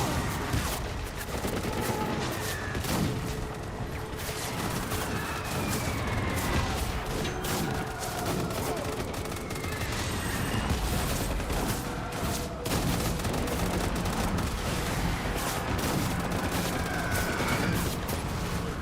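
Enemy gunfire in a video game, a dense, continuous barrage of overlapping shots that stays loud and steady throughout with no clear pauses.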